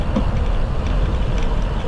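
A train approaching on a railway near a bike route in Pittsburgh, heard as a steady, loud low rumble and rolling roar that holds evenly for about two seconds, with no voices.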